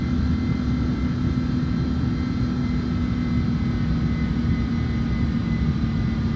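An Airbus airliner climbs in Microsoft Flight Simulator 2024, its loud, steady engine roar and cabin drone holding constant and close with no voices.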